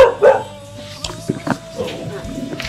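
A dog at a rural property gives a few short, sharp barks and yips, close and moderately loud, scattered among people talking nearby.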